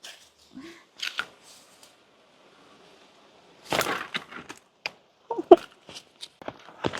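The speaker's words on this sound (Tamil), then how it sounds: "இது வந்து சக்தி எஃப்எம் குடை அதை ஒரு ஓப்பன் பண்ணிடுவோம்" A Sakthi FM umbrella being opened, with scattered rustling, clicks and snaps of fabric and frame: a few soft handling noises, a quiet pause, then a louder flurry of sharp crackles and clacks close by.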